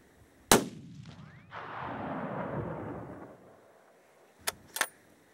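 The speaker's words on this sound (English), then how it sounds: "Now pull the trigger." A single loud rifle shot cracks at close range during outdoor target shooting in snow. A long fading echo rolls away after it, followed a few seconds later by two quick sharp clicks.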